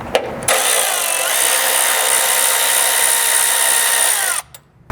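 A power tool whirs steadily for about four seconds, removing a frame bolt with a 12mm socket on a fifth-generation Toyota 4Runner, close and loud with a sharp start and stop.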